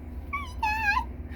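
Prairie dogs in a Wyoming field give two short, high-pitched squeaky calls, a brief yip and then a longer wavering one, heard clearly at moderate distance over a low background rumble.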